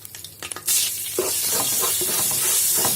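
Coriander powder and chillies hit a hot pan for mutton roast: a few light taps, then a sudden loud, sustained sizzle with rhythmic stirring scrapes running under it, and no voices.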